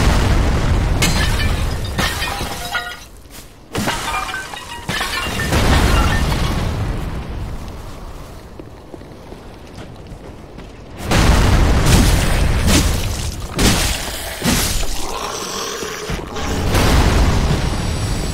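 Heavy booming impacts and bursts from a Dark Souls III battle land loud and close, coming in irregular clusters with quieter gaps between them and no talking.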